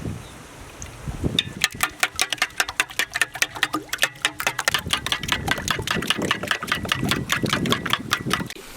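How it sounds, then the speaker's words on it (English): Eggs whisked in a bowl for an omelette made in a bell pepper, a fast rapid clatter of whisk strokes that starts after a second and runs steadily, close and fairly loud with no talk. "Whisk eggs."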